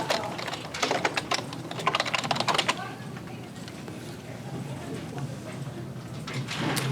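Quick clicking keystrokes on a computer keyboard while text is typed into a Microsoft Word text box, a dense burst lasting under three seconds before fading to quiet room noise.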